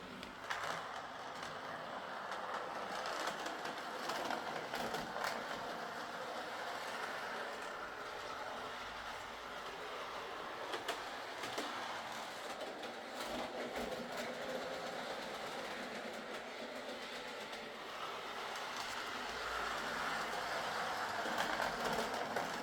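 A Hornby R1253 Eurostar model train runs along its track with a continuous soft rolling rumble and faint rhythmic clicking, steady and moderately close, with no talk.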